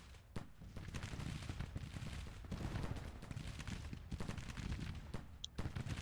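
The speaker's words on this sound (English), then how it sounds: "My artillery's just pounding away." Civil War artillery in the strategy game Grand Tactician pounds away as a dense, rumbling barrage of overlapping distant booms, kept at a moderate level throughout.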